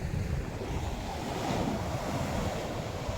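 Sea waves breaking on a shore, a continuous broad roar of surf with wind buffeting the microphone, steady and close with no voices.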